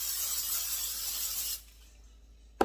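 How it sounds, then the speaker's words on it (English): Cooking spray hissing onto a baking pan in a home kitchen, one steady close spray of about a second and a half, then a short sharp knock at the end. "I just like spraying my pan"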